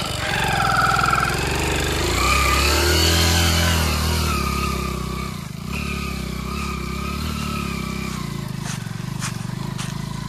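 A Hero Honda Splendor motorcycle labours off-road on a hill trail, its engine loud and close, revving hard and then dropping to a steadier chug, with sharp knocks and clatter near the end.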